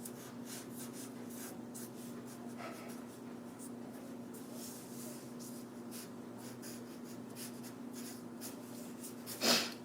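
A pencil sketches on paper during an art lesson, a faint steady scratching and rubbing of graphite strokes over a low background hum, ending with a brief louder knock.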